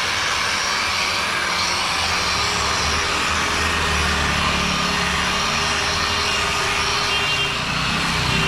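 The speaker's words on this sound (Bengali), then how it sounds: "এতে দাদা বাফারিং করে পলিশ করছে।" A buffing machine polishes a KTM Duke 2.0 motorcycle at a roadside workshop, giving a loud, steady whirring roar that runs continuously without pause and with no talk.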